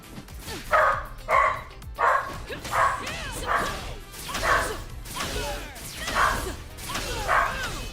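A dog barks repeatedly and excitedly, about eight sharp barks in a fairly regular rhythm, somewhat distant in the room beneath steady background noise from a game session.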